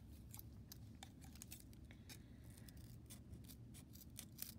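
Scissors snip a terrarium insert's sandy edges in a quick series of faint, crisp cuts at close range, with no talking.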